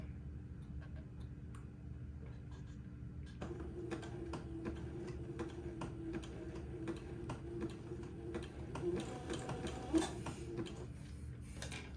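A sewing machine works slowly along a zigzag seam, stitching lace onto entredeaux for a daygown. Soft, light ticking clicks repeat unevenly over a low mechanical hum, faint and close, with a brief louder knock near the end.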